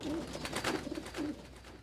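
A pigeon coos in soft, low, repeated warbling phrases close by, over a steady noisy background on a hot summer day.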